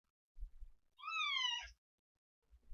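A cat lets out one drawn-out, wavering complaining meow, framed by soft low rumbling thumps that may be faint purring, close and quiet with no voices.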